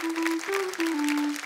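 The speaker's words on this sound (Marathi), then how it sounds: "एकदा जोरदार टाळ्या तुमच्या स्वतःसाठी झाल्या पाहिजेत." Steady applause from a studio audience at a Marathi women's game show, moderately loud and continuous with a faint sustained musical tone underneath.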